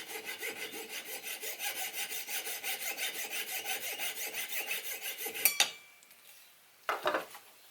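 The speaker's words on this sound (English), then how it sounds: "This is a little jeweler's saw which is great for these types of jobs." A small jeweler's saw rasps back and forth through a small metal part from a Stuart 10V model steam engine's reverse gear, giving steady rhythmic strokes close by for several seconds, then stopping, followed by a couple of brief handling clatters.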